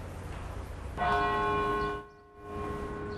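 A church bell strikes once at the Boston Marathon memorial on a city street, a loud resonant toll that rings out over outdoor background noise, then decays, with a second quieter stroke following.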